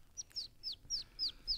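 A person imitates a bird with their voice: six sharp, high chirps in a quick, even rhythm, close and fairly quiet, with no other sound between them.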